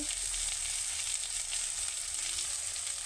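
Ground cumin and turmeric frying in a hot pan, a steady, continuous sizzle that stays close and fairly loud throughout, with no talking over it.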